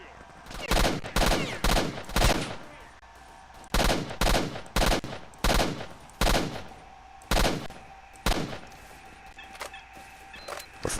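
Rifle gunfire in the video game Stalker: Shadow of Chernobyl rings out as loud, sharp repeated shots, single cracks and quick bursts spaced unevenly across the stretch, with a faint background hum between volleys.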